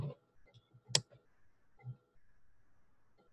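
A computer mouse click on an apply button while adding a PayPal button to a Wix website: one sharp, close click among a few fainter soft ticks and rustles in a quiet room.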